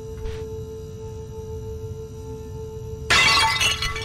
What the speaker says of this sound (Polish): Dobra, ja rozbiję tą wazę.